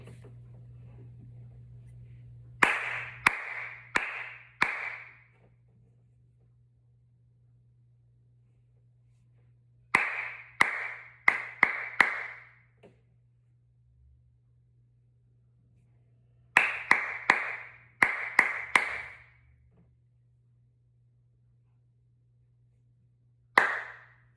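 Hand clapping in call-and-response rhythm drills: short groups of sharp claps alternate with pauses over a steady low hum, with one lone clap at the end.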